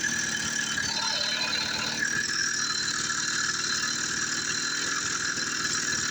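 A 49cc engine idles in cold weather, a steady, fairly loud running drone with a busy rattling texture and no talk over it.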